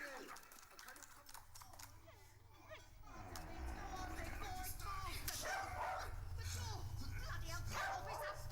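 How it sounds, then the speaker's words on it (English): A dog barks and yips in short bursts amid a busy, noisy scene. Several voices talk over and around the barking. "It's that bloody dog!"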